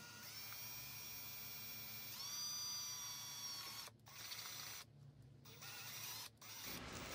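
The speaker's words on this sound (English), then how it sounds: "The bit I'm using here is a Forstner 1-inch bit that I got off of Amazon." A 1-inch Forstner bit from Amazon bores through material with steady mechanical whirring and a pitch shift midway, broken by brief pauses as the drill stops and restarts, close and fairly quiet, with no talk.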